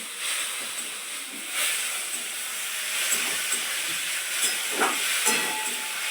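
Water poured into a hot pan of frying sabudana masala, a loud steady hiss and sizzle throughout, close and continuous with small bubbling pops.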